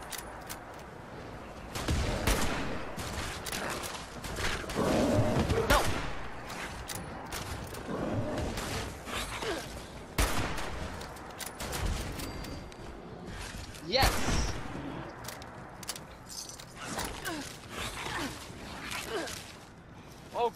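Gunfire in the video game Fallout 76 aimed at a rat, scattered bursts of shots and thumps at moderate level, mixed with players talking.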